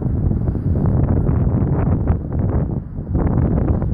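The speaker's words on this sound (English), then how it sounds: "Oh, the wind wants to blow me off." Strong wind on an exposed stretch of the Appalachian Trail in winter, a loud, continuous roaring buffet against the microphone with gusty surges and a brief lull near the end.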